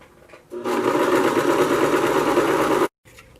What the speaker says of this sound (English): now I'm just going to sew these 2 pieces together